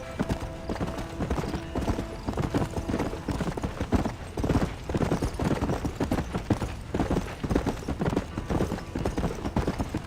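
Horse hooves clip-clopping in the Red Dead Redemption video game, a steady brisk rhythm of hoofbeats at close range running unbroken throughout, with a faint whinny and light background ambience.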